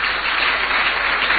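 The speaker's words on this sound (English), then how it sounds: "who I believe deserves a round of applause" Audience applause for Brother Joshua Ansah at a presidential dialogue with organised labour: a dense, steady wash of clapping from a large crowd.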